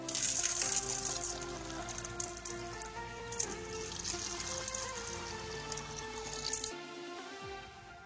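Water runs and gushes steadily from a tap while an aquarium's water is changed, a close continuous splashing that stops near the end.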